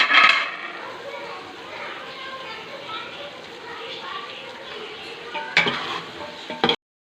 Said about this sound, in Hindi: ये भी अंदर डालेंगे और इसको अच्छे से मिक्स करेंगे